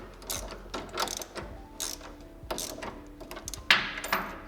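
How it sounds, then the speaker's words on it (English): A torque wrench ratchets as 17mm mechanical lock nuts are tightened on a Subaru STI front end link, giving a series of close, quiet ratcheting clicks in short bursts with one sharper clack near the end. "we'll grab some wrenches and tighten that down. There's 17mm heads. And yes, I'm using my torque wrench because I want to."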